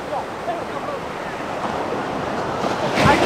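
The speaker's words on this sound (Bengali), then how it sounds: "ঢেউগুলো অনেক সুন্দর লাগতেছে।" Sea waves at high tide on the beach at Cox's Bazar roll in as a steady surf wash with some wind noise, swelling louder near the end under a faint voice.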